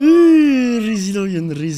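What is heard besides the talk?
No distinct noise like a dog, phone or traffic.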